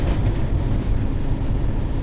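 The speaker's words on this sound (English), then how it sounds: "The engine's just cut back on." A Class 31 diesel locomotive engine rumbles loud and close with a heavy low throb, heard from onboard on the Blackpool branch line, steady throughout and with no talk.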